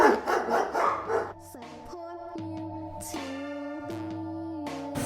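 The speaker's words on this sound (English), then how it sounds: "we heard dogs barking" Dogs bark a few times near hiking stairs at the start, followed by sustained tonal sounds that ring on.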